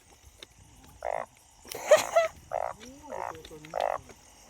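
Several frogs croak beside a railway track, four short loud bursts spaced about a second apart with a burst of clatter and voices between, calls close and clear.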